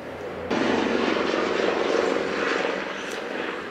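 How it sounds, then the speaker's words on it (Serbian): An airplane passes overhead on an early morning, its broad roaring drone rising abruptly and then holding loud and steady to the end, with no talking. "Prošao je neki avion."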